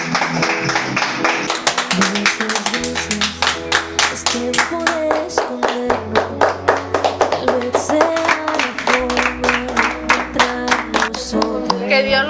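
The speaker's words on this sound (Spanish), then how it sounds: "Aplaudir a tu ventana" People applauding from their windows for nurses in Honduras, steady hand clapping layered over loud music with a sustained bass, the claps running continuously at a brisk rhythm.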